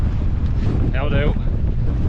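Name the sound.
strong wind blowing on a hillside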